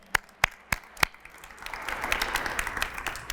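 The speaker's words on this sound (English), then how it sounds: "Let's give Huntington and all of our partners another round of applause if we can." At a press conference on a Huntington Bank small-business entrepreneurship program, a few separate claps ring out near the mic, then the audience joins in with a fuller, steady round of applause.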